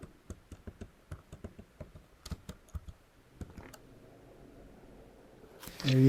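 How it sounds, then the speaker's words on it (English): Typing a name on a computer keyboard: a quick run of close, crisp key clicks in uneven bursts, then a quieter stretch before a louder rustle at the end. "We get to this page and we're going to type in his name."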